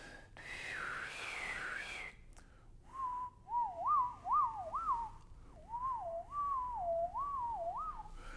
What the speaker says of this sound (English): If you think about whistling